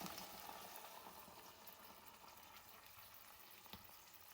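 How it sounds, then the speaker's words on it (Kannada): Pea masala gravy bubbling in a pot on the stove, a soft continuous simmer with faint crackle that stays low and steady, then a brief knock near the end; no one speaks. "ಇದು ಕುದೀತಾ ಇದೆ"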